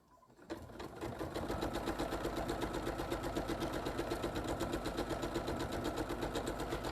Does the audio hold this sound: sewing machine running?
yes